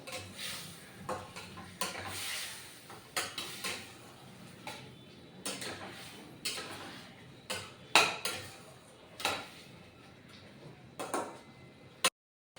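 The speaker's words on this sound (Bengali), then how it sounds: "তাহলে আমার মাছটা কষানো হচ্ছে" Fish seasoned with turmeric and spices being sautéed in a pan, intermittent scraping and stirring clatters of a utensil against the pan over a soft background sizzle, fairly quiet and close.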